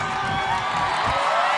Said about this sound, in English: Michelle Warnke in this crowd just starting up the Daniel chant